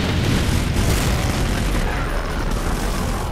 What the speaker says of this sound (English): I love the sound of that. It's the best for the BFG.